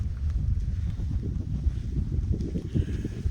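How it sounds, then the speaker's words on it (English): Wind gusts steadily across an open campsite where a tent is pitched behind a windbreak, a constant low rumble of buffeting against the microphone with no voices. "It's a little windy, but as you can see, we got a pretty nice little windbreak there."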